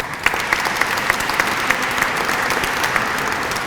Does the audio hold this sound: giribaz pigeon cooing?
no